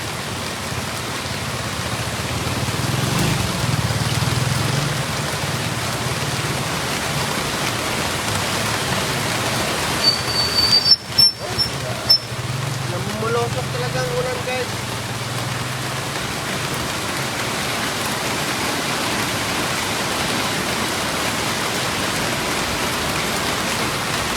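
Heavy, steady rain pours down hard in a roadside market area, a thick, constant hiss broken once by a brief knocking clatter near the middle, with no voices.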